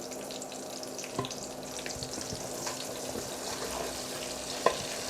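Steady crackling sizzle of spring onions frying in a pan, with a few sharp clicks of utensils, no voices.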